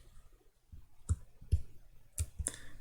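Several sharp computer mouse clicks land at uneven intervals, close and distinct against a quiet background while working in FreeCAD CAD software.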